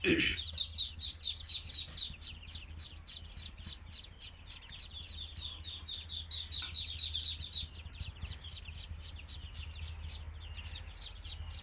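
Many Muscovy ducklings peep rapidly and continuously, a busy overlapping chorus of high chirps close by over a low steady hum.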